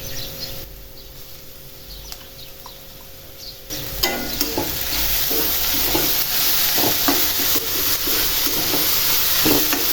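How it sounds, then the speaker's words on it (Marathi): Onion frying in a pan as ginger, garlic and green chili go in, a quieter hiss at first, then a louder dense sizzle with frequent stirring scrapes, close up, faint bird chirps behind. "आता कांदा परतला गेलाय, त्यात मी जे आपण आलं, लसूण आणि हिरवी मिरची बारीक करून ठेवली होती ती टाकून घेते."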